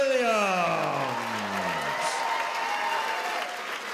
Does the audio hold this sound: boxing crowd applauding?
yes